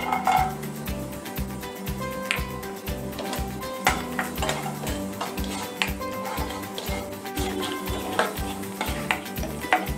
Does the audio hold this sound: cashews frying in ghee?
yes